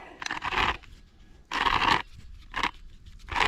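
Rough crunching bursts come in uneven waves with short quiet gaps, a combine harvester under repair crunching wheat nearby.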